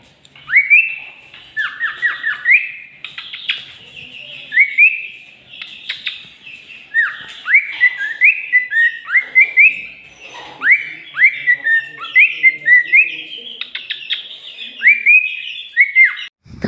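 A cockatiel whistles repeatedly in bright rising and falling phrases, loud and close, with short chirps between the tuneful bursts and no talking.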